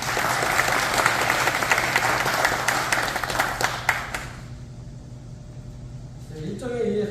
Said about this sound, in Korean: 박수 부탁드리도록 하겠습니다